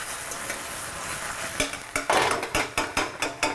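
Corn and carrots sizzle in a frying pan on a cooking show stove, a steady frying hiss punctuated by sharp clicks and pops as kernels jump, growing busier and louder toward the end, with no talk.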